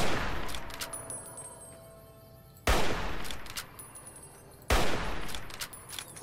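Gunfire in Fallout New Vegas as shots hit a fiend: three loud, sharp reports spaced about two seconds apart, each ringing out and decaying over a dense background of game noise.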